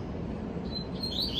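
Double-collared seedeater (coleiro) songbirds sing as faint, high, thin chirps over steady background hiss. The chirps grow slightly clearer toward the end of the brief moment.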